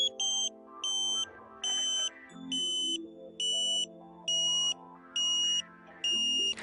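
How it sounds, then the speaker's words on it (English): A satellite finder beeps in regular, evenly spaced high pulses while a KA-SAT dish is aligned, with a steady underlying tone that shifts in pitch. The sound is close and moderately loud. "When you hear the tone drop, change direction."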